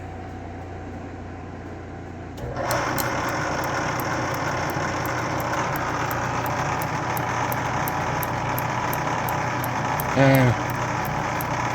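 A milling machine starts up and spins a 5-inch, three-phase axial flux alternator at about 150 RPM, a steady close motor drone with a faint regular ticking, and a brief voice near the end.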